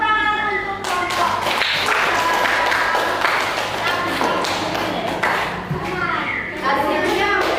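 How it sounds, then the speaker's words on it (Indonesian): A classroom full of people claps steadily and loudly for a presenting group while voices call out and talk over the applause. "Beri tepuk tangan untuk kelompok."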